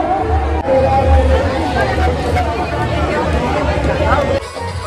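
Dense crowd chatter at the Godda fair in Jharkhand, a steady wash of many overlapping voices and hubbub close around, loud and continuous with a brief dip near the end.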